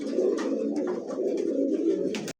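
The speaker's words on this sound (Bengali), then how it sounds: "ভাই পুতুল ভাই, মানে এত ভালো একজন কবুতর" Pigeons cooing steadily at a Bengali pigeon seller's stall, where racer, Lahore, Bombay, satin, pouter, Chila and Danish breeds are offered; several low throaty coos overlap close by without pause, with a few brighter flutters near the end.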